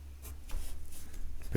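Pen or pencil writing on a blank sheet of paper during a math lesson, a soft continuous scratching with short strokes, close and fairly faint, no talk over it.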